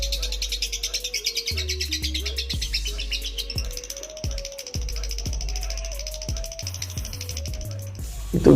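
A lovebird sings a long, fast run of high chirps and trills close by, with a low tonal hum underneath.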